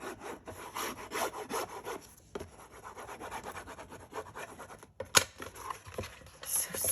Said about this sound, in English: And then you're going to come over here and rub this down.